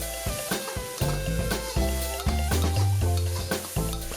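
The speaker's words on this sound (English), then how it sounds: "add 15 mils of Shaoxing Wine and continue to stir fry until it's mostly evaporated" Food is stir-fried in a wok as Shaoxing wine cooks off, with rhythmic scraping and tossing strokes of a spatula against the metal over a steady sizzle, close and loud, with no voices.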